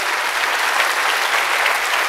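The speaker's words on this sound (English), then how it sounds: "Oh, come on, give God a big hand clap" A church congregation claps together during a sermon, producing a steady, dense wash of applause with no talk over it.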